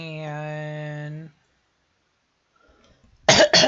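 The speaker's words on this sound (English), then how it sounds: "which I think I just coughed all over YouTube." A single sharp cough bursts out near the end, close and loud, following a sustained hummed voice tone and a stretch of near silence.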